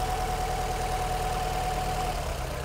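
A Nissan engine with a misfire idles steadily during a cylinder drop test, a low, even rumble with a faint rhythmic knock, no voices.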